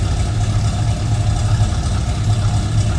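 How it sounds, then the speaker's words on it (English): Deep, steady rumble of a 1977 Chevrolet K5 Blazer 4x4's 350 cubic-inch small block V8 with headers and true dual exhaust, idling loud and close without any revving or voices. "A little rumble coming out of that small block Chev, 350 cubic inches."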